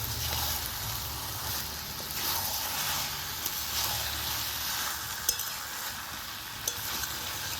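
Potatoes and chicken sizzle as they fry in a pan for a Bengali chicken tarkari, with a steady frying hiss and soft scraping stirs throughout plus a couple of faint clinks, no talking.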